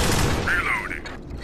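Dual-wielded pistols fire quickly in the video game Alien Swarm: Reactive Drop, a brief dense volley with a short tonal chirp over it.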